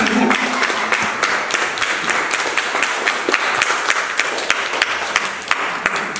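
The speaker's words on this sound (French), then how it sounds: "Alors on applaudit pour vous." A room of people at an award gathering breaks into steady applause, dense individual claps audible up close, sustained for several seconds with little talk.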